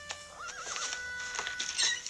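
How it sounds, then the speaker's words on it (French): An agitated horse neighs with a loud, wavering whinny, followed by scattered hoof clip-clops and movement sounds nearby. "Mauvaise idée, c'est un cheval très agité."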